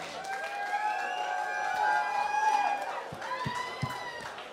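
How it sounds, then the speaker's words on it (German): An audience at a party applauds and cheers, with sustained clapping and crowd noise and some tonal music or voices running through it, and a few sharper claps near the end. "nochmal einen Applaus für euch"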